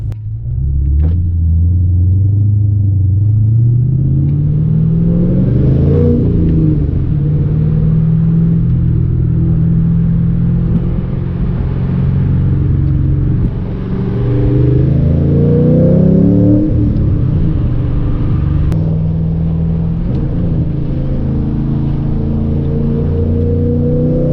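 A Ford Mustang with two-step launch control held at 3,000 RPM rumbles loudly up close, its engine note climbing and falling through several revving sweeps over a sustained deep idle.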